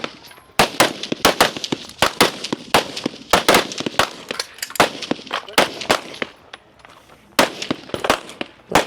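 Rapid, sharp gunshots from rifles and pistols crack out in dense bursts at a women's elite shooting competition stage, many overlapping reports close by with brief gaps between volleys.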